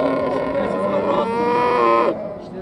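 A bull at a livestock market lets out a long, loud moo lasting about two seconds before it breaks off, close by, with faint market noise behind.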